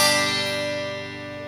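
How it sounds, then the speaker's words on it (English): Electric guitar strummed unplugged, with no amplifier: a thin, quiet chord rings briefly and slowly decays, heard alone. "You can play this guitar unplugged,"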